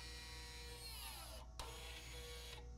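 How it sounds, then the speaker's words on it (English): A Ford electronic parking brake motor whirs steadily as it closes, then briefly stops and restarts with a click to adjust the brake pads, a close, continuous mechanical hum with a higher descending whine. "And we'll hear the electric motor close. And then we'll hear it adjust."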